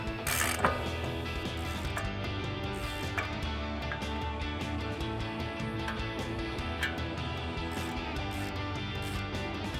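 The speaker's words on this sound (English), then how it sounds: "we're going to grab a 24mm socket and tighten down those caliper bracket bolts" A ratchet with a 24mm socket cranks down the caliper bracket bolts on a RAM 1500 front brake, giving a steady run of rapid mechanical clicking under a constant workshop hum, with a few louder clacks near the start.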